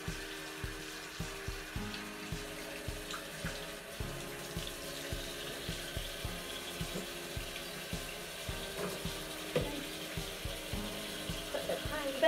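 A tap runs steadily into a sink while a cat is bathed and rinsed, the water spattering with a rhythmic splashing pulse of scooping or rinsing, close and moderately quiet.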